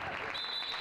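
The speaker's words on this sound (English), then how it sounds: "Crowd getting into it here." Home crowd at a Tuesday night girls' varsity basketball game between Westerly and South Kingstown claps and cheers in a brief, steady burst of applause, with a whistle-like tone over the noise.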